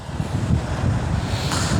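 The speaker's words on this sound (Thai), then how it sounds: "นานๆได้นั่งรถประทุนครับลมพัดสบายมากครับ" Wind rushes past while riding in an open convertible along a narrow road in Surat Thani, Thailand, a loud continuous buffeting rumble over the microphone without talk.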